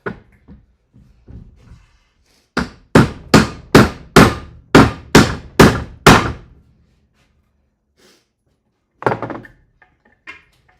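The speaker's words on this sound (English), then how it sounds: "I'm just gonna hammer them flat" A hammer strikes metal pieces flat during construction of gondola stations, eight sharp, ringing blows landing in a steady rhythm after a few quieter knocks, then two more hits after a pause.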